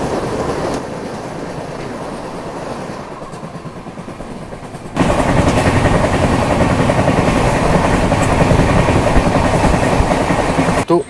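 A passenger train with a colourful locomotive on the Tirumala Express route rumbles past up close, a steady loud roar that swells sharply midway as the cars rush by, with faint clacking of wheels.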